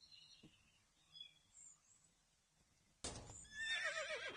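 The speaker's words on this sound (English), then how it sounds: "There are horses here too." A horse neighing in the Fritz & Chesster chess video game, a sudden loud whinny bursting in near the end after quiet ambient bird chirps.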